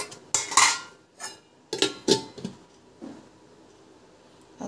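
A metal pot is set upside down and covered with a lid, giving several sharp metallic clinks and clatters close by, with quiet gaps between them and no talking.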